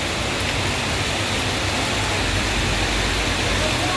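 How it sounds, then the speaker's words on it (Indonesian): Heavy rain pours down on a road near Padang Panjang, on the way to Bukittinggi, a loud, dense, unbroken roar of water on surfaces. "Tiba-tiba di perjalanan hujan deras ini."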